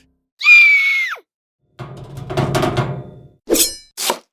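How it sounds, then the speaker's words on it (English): A man screams at the guillotine during the Terror in 1793 France. One loud, anguished, sustained cry breaks off abruptly and is followed by heavy thuds and sharp metallic clanks. "Robespierre screams a sound that witnesses say they'll never forget."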